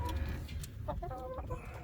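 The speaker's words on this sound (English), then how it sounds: "all of our chickens are essentially just kind of barnyard mixes" Barnyard mix chickens cluck in a few short, close calls over a low, rumbling outdoor background, with no voices.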